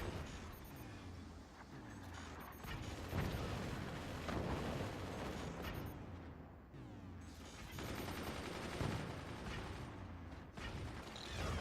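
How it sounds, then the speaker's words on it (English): Mortar and machine-gun fire in the strategy game Forts, a dense continuous barrage of rattling automatic bursts and heavy thumping impacts, loud and unbroken throughout. "We just have gentle mortar on mortar violence with machine guns, the occasional sniper."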